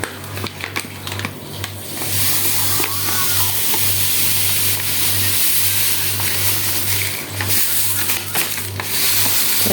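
Salt poured from a bag into a pot while cooking beef with potatoes, a continuous granular hiss that swells after a few uneven opening seconds and runs loud and steady.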